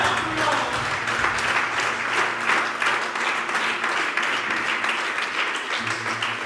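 A church congregation applauds steadily and loudly for several seconds, a dense wash of clapping with a low hum of voices and music beneath it.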